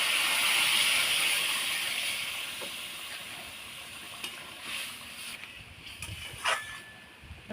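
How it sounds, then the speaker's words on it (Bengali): Dal being tempered with spices in hot oil, a broad sizzling hiss that is loudest at the start, then gradually fades, with a few sharp crackles near the end. "এবার ডালটা আমি সম্বার দিয়ে দিচ্ছি।"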